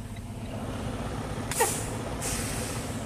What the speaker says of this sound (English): I'm gonna push the trailer brakes in, and then I'm gonna pull that back out.